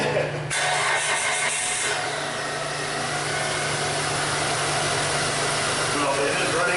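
A 2004 Mitsubishi with a check-engine light on and a faulty O2 sensor cranks briefly and catches, then settles into a close, steady idle drone that sounds slightly rough.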